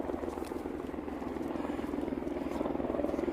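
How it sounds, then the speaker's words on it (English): An A-Star helicopter drones steadily overhead in the wilderness, with a rapid rhythmic rotor chop, moderately loud and growing slightly nearer as it passes. "about every 2 minutes there's a A-star flying overhead"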